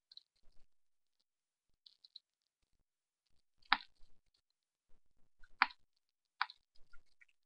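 A computer mouse clicks a handful of times at irregular intervals, with short, crisp, faint clicks separated by near silence in a quiet room.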